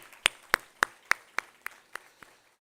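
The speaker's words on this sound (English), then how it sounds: "Round of applause to all the parents present here" Audience at a computer science engineering graduation day claps for parents, about eight distinct, evenly spaced claps from a small group, growing fainter until they stop.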